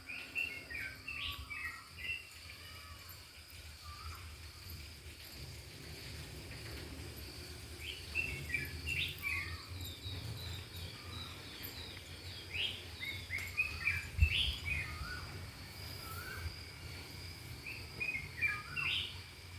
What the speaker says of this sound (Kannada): ನಮ್ಮ ಮನೆ ಹತ್ರ ಹೀಗೆ ಬೆಳಗ್ಗೆ ಎದ್ದು ಹೊರಗಡೆ ಬಂದಾಗ ಈ ಅಕ್ಕಿ ಪಕ್ಷಿಗಳ ಸದ್ದು ಎಷ್ಟು